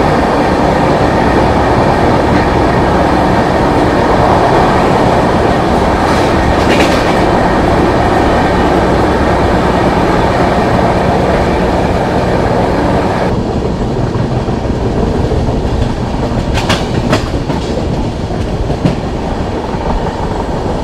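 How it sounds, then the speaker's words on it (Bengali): The 12261 Mumbai CSMT–Howrah AC Duronto Express runs through forest in light rain, with a loud, steady rumble and rhythmic clickety-clack of wheels over rail joints throughout. The character changes slightly partway through, and no one speaks. "জঙ্গলের মধ্যে দিয়ে ট্রেন যাচ্ছে"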